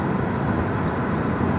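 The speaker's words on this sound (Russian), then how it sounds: "Вот это потому что турецкий самолет вроде как." Turkish military airplane, apparently an F-16, flying at an airshow at the Teknofest festival in Azerbaijan, heard as a steady, loud roaring jet rumble that holds even throughout, with no voices.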